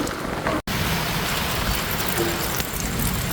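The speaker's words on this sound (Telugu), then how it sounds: "ఇవాళ పడక వర్షం పడుతుంది" Steady rain falls in a village in Nizamabad district, a dense continuous hiss with a brief dropout near the start and no voices.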